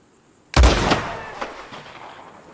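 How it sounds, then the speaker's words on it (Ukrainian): A single loud gunshot in Red Dead Redemption 2 cracks out after a short quiet stretch, its echo trailing away over the next two seconds, with a fainter pop partway through. "Стріляй ближче."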